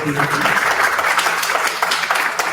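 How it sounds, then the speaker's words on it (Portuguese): An audience in a lecture hall on ethnomathematics applauds a question, a short burst of mixed clapping with some voices underneath, fairly close and loud. "pode aplaudir a pergunta"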